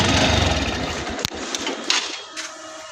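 A TVS Stryker motorcycle engine idles nearby with a rough, steady rumble that gradually eases, punctuated by a few sharp clicks and taps.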